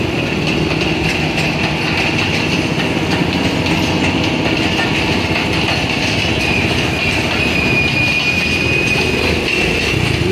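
A train from Karachi to Sialkot rolls through Badami Bagh station in Lahore, a loud, steady rumble of wagons on rails with a thin, sustained wheel squeal riding over it throughout.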